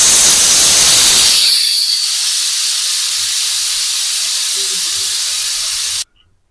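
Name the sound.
pressure cooker whistling and releasing steam while cooking lentils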